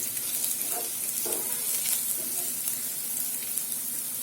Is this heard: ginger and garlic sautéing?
yes